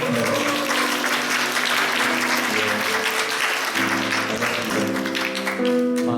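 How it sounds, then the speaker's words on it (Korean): A church congregation applauds during a Sunday worship service, steady clapping filling the room with a sustained tone of music or organ beneath it. "제가 박수 한번"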